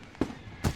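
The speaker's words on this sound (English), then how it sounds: "Fireworks." Fireworks burst over a school at night in the visual novel Katawa Shoujo, two quick booming thuds in close succession, sharp and moderately loud with nothing else over them.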